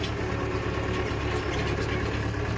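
A tractor engine idles nearby with a constant, low, chugging rumble and no pauses or voices.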